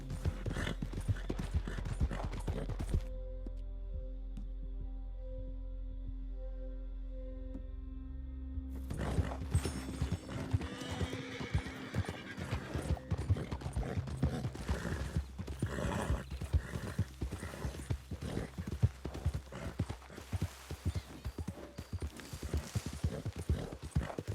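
Horse hooves clip-clop steadily in Red Dead Redemption II, with a horse neighing and whinnying, a brief quieter stretch mid-clip, then continuous galloping hoofbeats and movement noise throughout.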